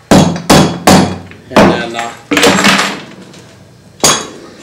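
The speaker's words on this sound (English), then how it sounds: "I lay that cable stop on there, and I give her a few hits with the hammer, and that really smashes it down." A hammer strikes a metal cable stop held in a vise to flatten it for a Yancy dogproof trap door, with about five sharp, loud metallic blows in an uneven rhythm and a brief spoken remark between hits.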